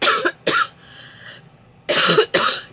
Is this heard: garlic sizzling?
no